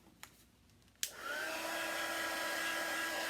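A hair dryer clicks on after a couple of faint knocks and settles into a steady, close whooshing hum while drying paint on a Halloween sign.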